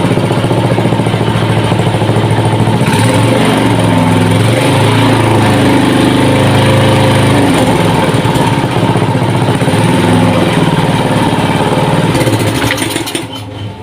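A small water pump engine running on LPG gas drones loudly and steadily at close range, a buzzing motor note that holds even throughout before dipping slightly at the very end, with no voices.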